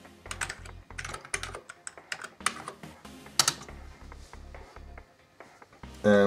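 Keys clatter on a computer keyboard while a command is entered in an Amiga shell, bursts of close, crisp taps with short pauses, ending on a louder thump.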